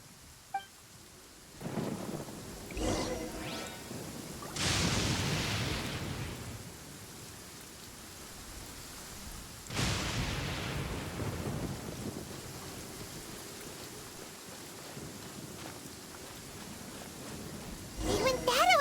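Heavy thunder rolls in long rumbling swells over steady rain during a thunderstorm in the video game Genshin Impact, with a sharp crack near the start and faint voices under the storm.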